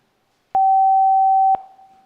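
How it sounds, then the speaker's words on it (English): A single pure 770 Hz tone, one of the DTMF telephone dialing frequencies, sounds steadily for about a second, starting and stopping with sharp clicks and leaving a brief fading tail. "So for example, 770 sounds like this."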